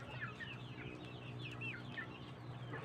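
Chickens cluck softly nearby, a few short overlapping calls over a low background hum.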